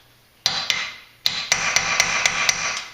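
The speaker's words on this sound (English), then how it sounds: "it's good to hammer on it with a punch. Helps break up the rust." A punch is struck repeatedly with a hammer against a rust-seized brake rotor set screw on a BMW E46 330xi front wheel, with sharp close metallic hits: two, then a pause, then a steady run of six or seven evenly spaced strikes.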